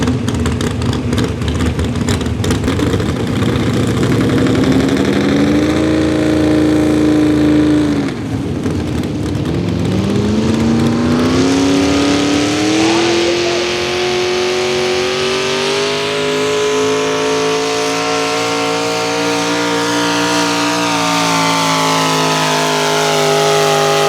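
A 4500 economy class pulling tractor engine at a Fishersville, Virginia tractor pull revs loud and close, its pitch dipping briefly then climbing and holding a sustained high roar as it strains down the track.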